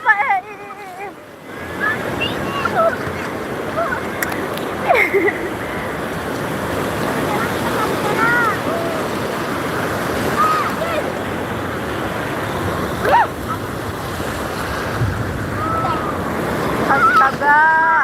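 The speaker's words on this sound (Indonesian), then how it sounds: "Pergi ke sini tinggi-tinggi ombak." High waves break on a beach in the rainy season, a continuous roaring surge of surf mixed with buffeting wind on the microphone, with faint voices briefly heard underneath.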